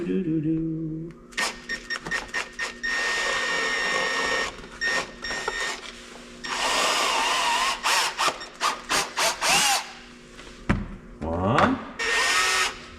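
A power drill with a quarter-inch bit punching holes while fitting accessories to a 2024 Ski-Doo snowmobile, whirring in two longer bursts amid many short clicks and clatter, with a person talking at times.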